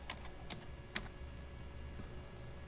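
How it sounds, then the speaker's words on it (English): Typing on a computer keyboard, a few sharp key clicks spaced unevenly near the start, then quiet room hum, faint and close, no talk. "I'm going to type in New Tech."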